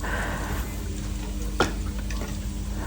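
Steady sizzling of garlic being stir-fried in a hot pan, with a brief scrape of a utensil midway.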